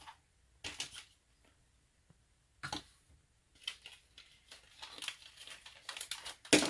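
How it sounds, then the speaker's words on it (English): Flaps of a shipping box being sealed down with small USPS stickers: a few separate bursts of crinkling, peeling paper and pressing, quiet and close, with short pauses between. "I use their little stickers to tape down the flaps here."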